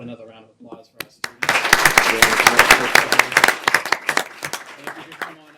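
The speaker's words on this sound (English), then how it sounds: "How about another round of applause for our students?" An audience at a Quincy School Committee meeting applauds students, a burst of dense clapping swelling after a few spoken words and then thinning into scattered claps.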